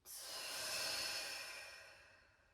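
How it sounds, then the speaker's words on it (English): One long, deep breath during a yoga flow sounds as a soft, airy exhale that swells quickly and then slowly fades, close and quiet with no talking. "Taking a full breath in and a full breath out."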